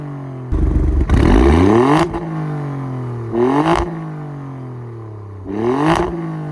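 Alfa Romeo Stelvio Quadrifoglio engine in race mode blipped three times, each rev climbing sharply to a loud snarl then falling back to a low idle, with pops as it drops, no voices.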